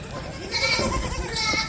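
Goats bleating on a goat farm in Chakwal in the morning, several calls overlapping close by, with people's voices faintly in the background.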